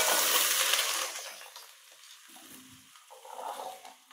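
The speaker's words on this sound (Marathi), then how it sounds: "आता हे तेल गरम झालेलं आहे, तर याच्यामध्ये आपण गाजर, बीट, बटाटा आणि मटार हे टाकून घेऊयात." Carrot, beetroot, potato and peas drop into hot oil in a kadhai for pav bhaji, setting off a loud, close sizzle that fades within a second, then settles to a softer hiss and crackle.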